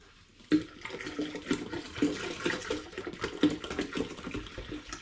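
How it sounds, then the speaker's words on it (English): Spring water is poured into a home brew bucket for a lime and ginger lager, starting suddenly and then sloshing and gurgling unevenly as the pour continues close by. "I'm going to get some more spring water in there."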